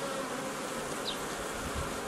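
Honey bees buzz continuously in a dense drone while a hive is opened for inspection, steady and close throughout.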